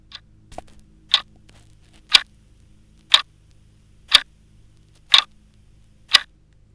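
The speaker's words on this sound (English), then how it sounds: "that is going to be a ticking sound to tell you, hey, start searching kind of a thing" A phone accessibility app for blind and visually impaired users gives off a steady series of sharp, evenly spaced ticks, about one per second, while it searches, clear and alone in a quiet room.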